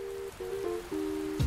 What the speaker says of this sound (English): The rain is coming down so hard.